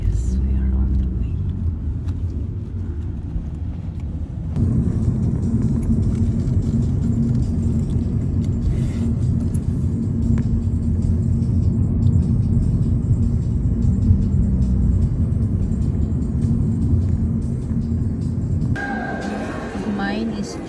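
A car travels along a road with a steady low engine and road rumble throughout, and people talk quietly inside the cabin.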